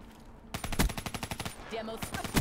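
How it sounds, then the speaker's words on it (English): Automatic gunfire in Black Ops 3 online multiplayer: a fast, even burst of about a dozen close, loud shots, then quieter scattered pops and a final sharp shot. "I killed him with one bullet."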